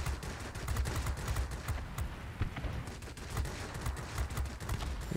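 Rapid bursts of aircraft machine-gun fire from an MB 5 fighter in World of Warplanes, dense overlapping cracks running continuously under a steady engine roar, close and loud throughout.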